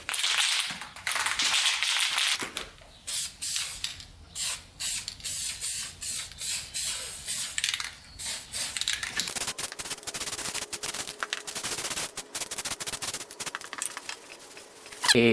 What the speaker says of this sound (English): time to paint the pipe using flame-proof EHT paint